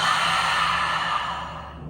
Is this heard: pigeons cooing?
no